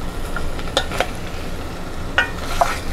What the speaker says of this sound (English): You might can hear that little bit of frying sound.